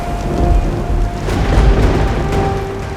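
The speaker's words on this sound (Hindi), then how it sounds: "कालपरी, इतना बड़ा तूफान भरा करके ये क्या निकाला है?" Magical storm effect of rumbling, thunder-like booms and steady rain-like noise with a sustained tonal hum, loud and continuous throughout with no talking.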